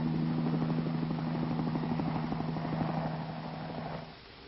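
A steady helicopter drone with rapid rotor chop, blades turning at up to 350 mph, loud and continuous, fading down slightly near the end, from an old U.S. Army pilot training film.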